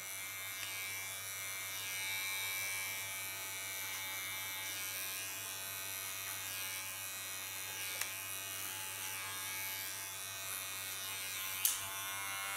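Steady, close electric hair clipper buzz cutting short silver-gray pixie hair, a continuous drone with a couple of brief clicks, without talk.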